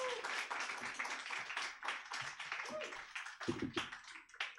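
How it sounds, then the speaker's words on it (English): Audience applause at a comedy showcase, a soft, fairly distant patter of many hands clapping that swells and thins over a few seconds. "give her a big round of applause, everybody"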